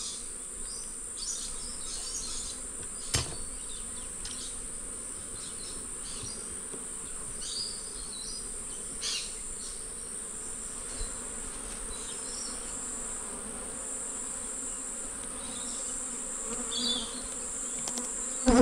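Bees buzz continuously around an open, fairly calm beehive during an inspection, a close and steady drone with occasional louder passes and small knocks, no talking.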